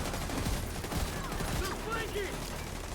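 Gunfire in the shooter game The Division 2, rapid bursts of shots mixed with game effects, a busy continuous firefight layered under faint background noise.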